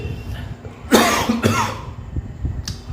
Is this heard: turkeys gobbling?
no